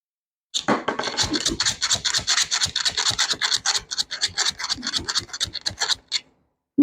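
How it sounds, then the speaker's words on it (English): Sand poured into a pipe to fill it before bending, heard as a close, rapid, rhythmic scraping and rasping train lasting several seconds and then stopping. "let's put a little bit more sand in"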